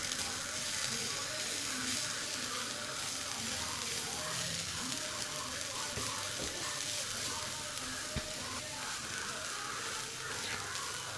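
Purple cabbage thoran mixture fries in a pan with a steady, continuous sizzle and hiss, close and fairly loud, with occasional stirring clinks and no talking.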